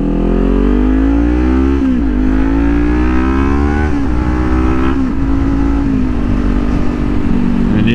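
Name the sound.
Kawasaki Ninja 400 motorcycle engine revving while riding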